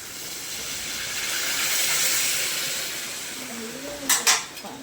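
A steady hiss of hot water poured into a hot pan of egg curry builds and fades, followed near the end by a few sharp clinks of utensils against cookware.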